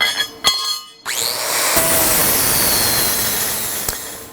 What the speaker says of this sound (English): We'll make this all smooth so the top fits on, grind all these smooth so they fit in